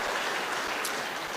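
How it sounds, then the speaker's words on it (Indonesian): Applause from a crowd at a party congress, the sixth congress of the National Mandate Party (PAN), heard as a dense, steady wash of clapping across the whole short stretch, loud and close with no pauses. "Tepuk tangan sekali lagi untuk Bapak Zulkifli Hasan."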